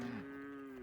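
A cow moos once in a long, steady low call that tails off, heard alone at moderate distance on a farm beside neighbouring backyards.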